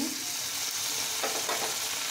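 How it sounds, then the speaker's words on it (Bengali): Ginger, garlic and onion paste fries in a pan with beef and potato, giving a continuous close sizzle and a couple of soft stirring scrapes near the end. "এই পর্যায়ে আমি এখন আদা রসুন আর পেঁয়াজের পেস্টটা দিয়ে দিচ্ছি"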